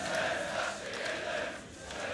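A large crowd of fans roars and cheers steadily throughout at an esports tournament, the IEM 2015 Katowice Counter-Strike quarterfinal between Virtus.pro and Keyd Stars on de_nuke, a dense, continuous arena din with no clear breaks.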